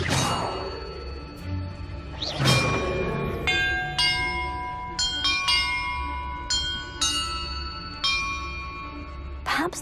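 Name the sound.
bells ringing in video game Hogwarts Legacy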